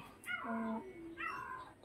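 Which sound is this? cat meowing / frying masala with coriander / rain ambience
cat meowing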